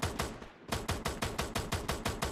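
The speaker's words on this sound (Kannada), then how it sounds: "ಗನ್ ಸೌಂಡ್ ಕಮ್ಮಿ ಮಾಡೋಕ್ಕಾಗಲ್ವಾ" Rapid automatic gunfire from the mobile shooter game Free Fire MAX, loud evenly spaced bursts of shots after a brief pause, with no talk.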